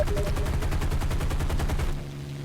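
Rapid, evenly spaced machine gun bursts from a P-47D or P-51D fighter in War Thunder, loud and close, rattling steadily for about two seconds before stopping abruptly.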